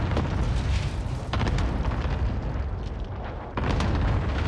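Cluster strike explosions in a video game rumble as a heavy, continuous barrage of booms, with a couple of louder bursts standing out from the dense low roar.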